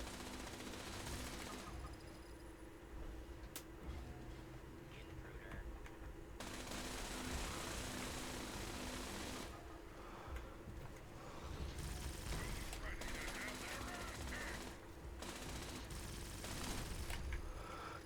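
Automated turret in Fallout 76 firing machine-gun bursts, quiet and somewhat distant, with rattling volleys recurring across the stretch over a steady game background.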